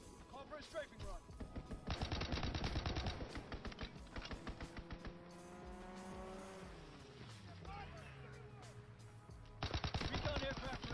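In Call of Duty WWII on the Aachen map, a fighter aircraft strafing run tears through as rapid machine-gun bursts with roaring engine sweeps and squealing tires, game voices speaking over the chaos.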